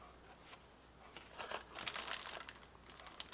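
Plastic bag holding model tank kit parts crinkling in quick, irregular bursts, close and fairly soft, growing busier toward the middle, with no voices.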